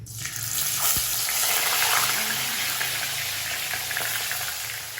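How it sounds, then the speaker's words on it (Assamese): Marinated chicken pieces frying in hot oil in a kadai, a loud steady sizzle that swells as the meat hits the oil and then holds as a continuous hiss, close up with no talk. "আমি এতিয়া ইয়াত এডোখৰ দি লৈ পেলানি ফ্ৰাই কৰি লম।"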